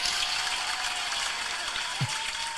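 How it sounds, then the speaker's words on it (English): A round of applause sound effect plays on a live stream, heard as a faint, continuous wash of clapping for a couple of seconds. "That's another round of applause."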